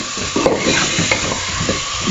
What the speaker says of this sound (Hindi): चिकन जो है इसमें डाल के हम फ्राई करेंगे